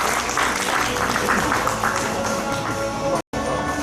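Applause at a climate-and-school-meals conference in Gyeonggi, a steady, even round of clapping from the audience that holds throughout and cuts out briefly near the end.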